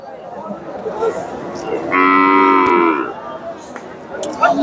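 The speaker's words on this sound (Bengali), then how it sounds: "ফ্রিজিয়ান জাতের বকনা অনেক সুন্দর একটা বকনা" A Friesian heifer at a busy cattle market gives one loud, drawn-out moo of about a second, rising over a background of crowd chatter.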